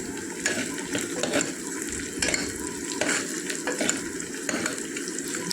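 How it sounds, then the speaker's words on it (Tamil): Onion and garlic sauté in oil with a busy, close sizzle, broken by repeated scraping stirs of a spoon against the pan and some watery clatter, with no voices. "பூண்டு அந்த எண்ணெய் எல்லாமே நல்லா ஆனியன் எல்லாம் சேர்ந்து நல்லா வதங்கி வரணும்"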